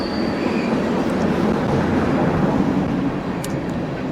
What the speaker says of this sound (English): I hear that train a-coming.